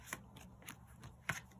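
Tarot cards are quietly shuffled and drawn, giving a handful of soft, crisp flicks and slaps of card stock at irregular intervals, faint and close, with no talking.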